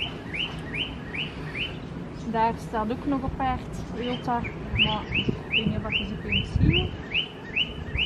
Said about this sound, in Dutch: En als je iets hoort fluiten op de achtergrond, dat is onze volière.